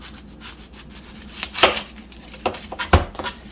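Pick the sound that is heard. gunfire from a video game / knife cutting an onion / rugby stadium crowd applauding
knife cutting an onion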